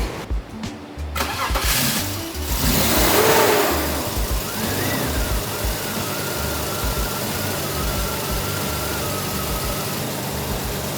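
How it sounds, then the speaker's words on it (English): A BMW E39 car with a swapped M54 engine cranks and catches, revs briefly, then settles into a steady idle that runs on without speech. "we'll go ahead and start the car up, let it run for a minute"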